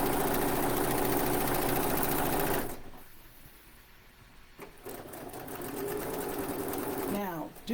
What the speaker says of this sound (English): not everybody's sewing machine, is silent. Some are noisier than others.